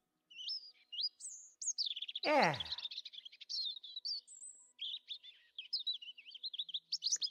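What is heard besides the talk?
European robin song chirps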